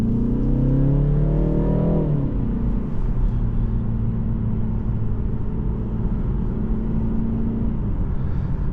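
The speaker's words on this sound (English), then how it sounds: "One thing with this 4-cylinder, it gets very winded up towards red lines" A 2025 BMW 330i xDrive four-cylinder engine, with piped-in cabin sound, climbs loudly toward redline, its pitch rising for two seconds. It then drops off into a steady cruising rumble and road drone heard from inside the car.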